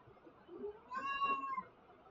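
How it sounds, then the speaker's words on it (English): A pet cat gives a single clear, drawn-out meow, fairly close and moderately quiet, with no talking over it. "my cat Max has been a little power lately"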